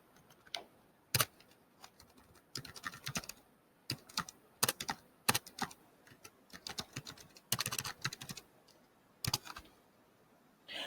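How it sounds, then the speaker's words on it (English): Typing on a computer keyboard, close and fairly quiet, with irregular bursts of key clicks separated by short pauses. "Start by typing Denzel Washington"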